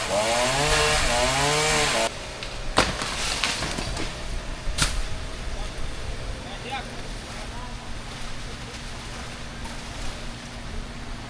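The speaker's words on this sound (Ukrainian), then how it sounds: "зрізають пилками. Бензо, типу бензопила ось така." A harmonic, voice-like tone opens the scene, then a gasoline chainsaw cutting a coconut palm in Thailand buzzes at moderate distance beneath rough outdoor noise, with a few sharp cracks along the way.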